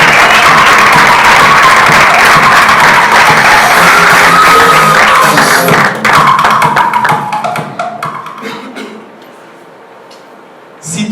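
Loud, close applause from a live audience at a talk, with cheering and whoops over the dense clapping. After about six seconds it thins and fades to a few scattered claps.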